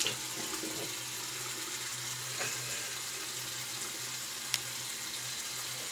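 Water from a bathroom tap runs steadily at moderate volume while a razor is rinsed during a wet shave. There are a few faint clicks and taps, and no one speaks.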